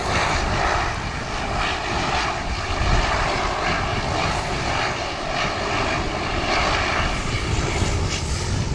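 A 15-year-old Dash 8 turboprop airliner at Wellington Airport roars loudly and steadily throughout, a continuous broadband engine and propeller drone with no voices.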